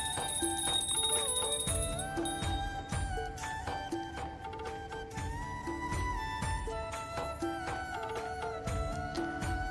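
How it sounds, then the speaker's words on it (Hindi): A small handheld prayer bell rung to wake a Laddu Gopal idol during a Hindu morning worship routine, ringing continuously and fairly loud with repeated bright strikes and sustained overlapping tones, no voices. "तो हम घंटी बजा के कान्हा जी को उठाएंगे।"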